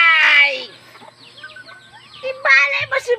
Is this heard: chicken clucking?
yes